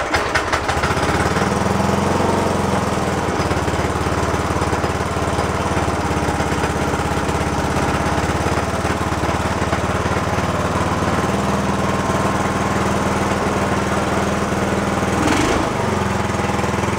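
A small gasoline engine picked up at a yard sale, running on stale fuel, chugs steadily and loudly with a rough, knocking mower-like clatter throughout, alone without voices.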